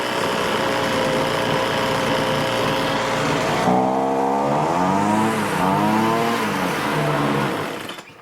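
A Toro leaf blower's small two-stroke engine runs steadily and loud throughout, its pitch dipping and rising with throttle changes midway before it cuts off at the very end.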